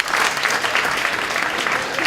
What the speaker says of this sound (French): Applaudissez les célibataires.